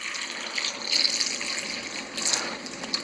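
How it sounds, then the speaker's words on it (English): Tap water poured over tomatoes in a container, a steady hissing splash with a few brighter spurts, close and alone. "we're just going to simulate that by pouring some tap water in here"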